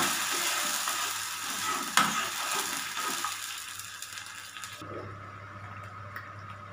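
Ginger, garlic and tomato paste fry and sizzle in a pan, with a steady hiss and stirring scrapes. A sharp clink comes early, and the sizzle quietens a little after a few seconds.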